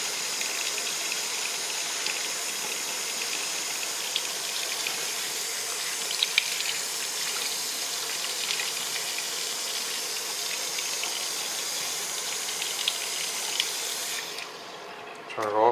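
Hot water running steadily from a faucet into a sink after a Navien tankless water heater was flushed and descaled with vinegar, a constant close hiss of flow lasting throughout before easing at the very end.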